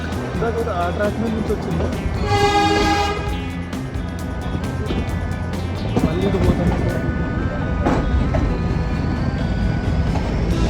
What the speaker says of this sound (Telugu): బ్యాక్ సైడ్ నుంచి ఇంజిన్ పుష్ అప్ చేసుకుంటూ బోగిల్ని ముందుకు నెట్టుకుంటూ వెళ్తుంది.